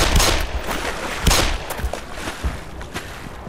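Bursts of gunfire from the video game Black Mesa crack out in irregular volleys, some sharp and near, others more distant, with no voices.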